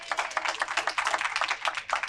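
Audience applause at a business presentation, a steady dense wash of many hands clapping close up, filling the whole moment without any voices.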